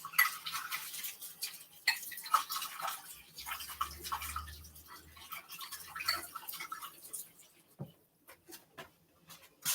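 A dish is rinsed under running water, a faint, uneven splashing and trickling close by with small clinks and knocks, thinning to scattered drips near the end.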